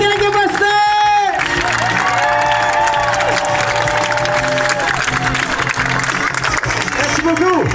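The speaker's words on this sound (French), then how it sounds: "on applaudit très fort ce numéro vraiment exceptionnel" A live crowd claps, cheers and whoops loudly after a horse and dog act at a show. The applause is sustained under music, with an announcer speaking over it.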